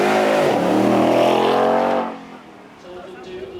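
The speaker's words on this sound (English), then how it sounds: "a good run there from our Toyota V8" A Toyota V8 car runs on the track at the Beaulieu Supercar Weekend, its loud engine roar rising through the first two seconds before it drops away sharply, leaving faint background noise.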